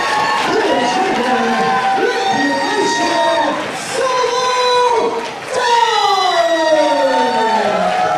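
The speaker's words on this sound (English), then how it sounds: "This crowd is going crazy." A wrestling crowd at a Beyond Wrestling show roars and screams without letup after Solo Darling's win, loud and sustained, with shrill shouts and whistles rising through the din and a brief dip midway before it swells again.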